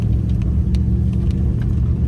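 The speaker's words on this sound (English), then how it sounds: "We have a car coming, so let's move to the side" A car approaches on a winding canyon trail, its engine a low steady rumble and whir close by, with faint tire and wind noise on top.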